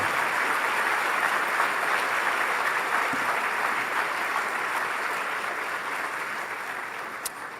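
A church congregation claps to praise the Lord, a sustained wash of applause from many people that slowly fades toward the end.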